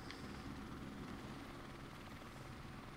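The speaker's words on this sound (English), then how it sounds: "I gotta get out of the way of that helicopter" A video game helicopter passes close overhead: a loud, steady rotor roar and engine drone fill the whole moment without a break.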